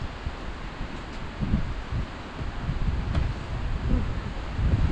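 Wind blows outdoors at a village house, buffeting the microphone with low rumbling gusts that rise and fall continuously. Faint rustling sits underneath and no one speaks.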